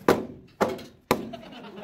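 Wooden pillar tapped into place during timber house framing, giving three separate hollow thunks about half a second apart, each struck firmly and close by, with brief faint room noise between the blows.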